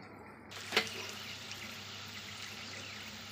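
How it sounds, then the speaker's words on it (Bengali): Gobindobhog rice is washed with water in a kitchen, giving a faint, brief splash and pour followed by soft, steady trickling. "এটাকে ভালো করে এখন জল দিয়ে ধুয়ে দেবো"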